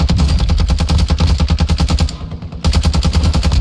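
Rapid automatic gunfire from a Kastov 74U-style rifle in the online shooter Warzone 2, loud bursts of close shots in a dense rhythm that pause briefly before resuming.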